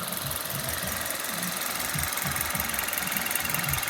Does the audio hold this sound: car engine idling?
yes